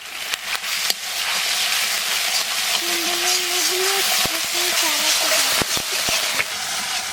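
Spices with salt and turmeric sizzle in oil while cooking shol fish curry, a loud continuous hiss and crackle close up, with a voice humming or speaking briefly over it and a few sharp clicks.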